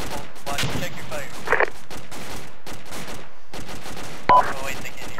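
Gunfire erupts in a loud, continuous barrage as a unit fires on a friendly position, with several sharper bursts standing out above the dense, steady roar.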